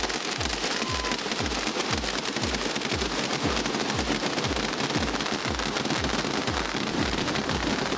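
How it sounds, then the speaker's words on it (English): Firecrackers burst in a rapid, continuous barrage at a Chinese New Year celebration in New York City, the loud crackling carrying dense regular low thumps throughout, with no voices. "why people thought the sound and smoke of the firecrackers would scare away the bad luck"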